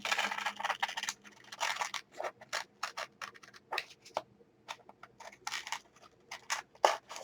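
Scissors snip around a figure cut from a magazine page, making quiet, close, irregular crisp cuts in short runs with brief pauses, no voices.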